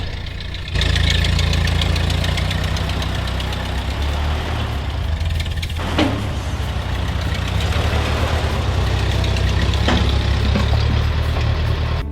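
A Ford 8N tractor engine idles and runs steadily nearby, a low chugging rumble with a faint knocking rhythm, continuous for the whole stretch with no voices.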